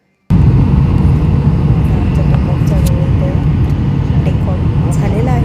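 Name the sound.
airplane taking off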